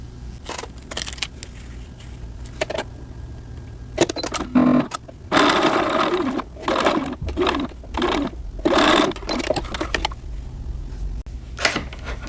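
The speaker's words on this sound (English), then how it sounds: "we're going to sew the center front seam at 1/4 of an inch" A sewing machine stitching the center front seam of cotton shorts at 1/4 inch, several short bursts of close mechanical whirring broken by pauses and small clicks, with no talking.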